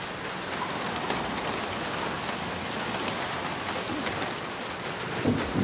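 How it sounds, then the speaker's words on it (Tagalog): Steady rain falling outdoors, a dense even hiss of drops spreading across the whole clip, with a few louder spatters near the end and no voices. "Oh, umuulan."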